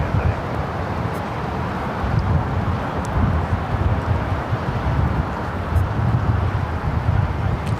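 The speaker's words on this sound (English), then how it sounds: "this is the first big windstorm we've had of the season" Strong gusty wind roars during a windstorm at LAX, a dense, continuous rush with slow surges in strength, buffeting close to the microphone.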